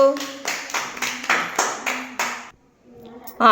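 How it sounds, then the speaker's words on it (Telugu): Schoolchildren in a classroom clap for a classmate in about seven quick, even bursts, then the applause stops; a short voice comes in right at the end. "క్లాప్స్ కొట్టండి గీతికకు."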